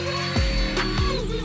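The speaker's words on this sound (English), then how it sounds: "I did find these smaller sanding drums" A small sanding drum on a power tool whirs steadily while shaping carbon fiber RC shock tower extensions, a continuous close motor tone with brief load changes as the drum bites into the part.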